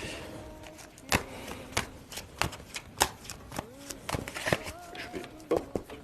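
A deck of playing cards is cut and shuffled close by, sharp papery riffles and slaps landing in an irregular run of crisp bursts, with a few faint murmurs from a voice in between.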